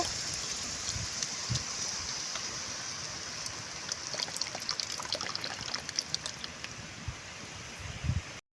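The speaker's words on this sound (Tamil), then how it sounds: "இப்போ கரைச்சி வச்சா நம்ம புளி தண்ணியை உள்ளே சேர்த்துக்கலாங்க" Steady tamarind water pouring and trickling into a cooking pot, a continuous splashy wash with a few brief drips and clinks, fairly close and with no talking.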